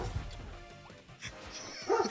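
A dog barking and yipping in short, fairly quiet bursts, heard near the mic over background noise, with no talking.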